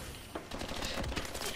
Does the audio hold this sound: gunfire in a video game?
yes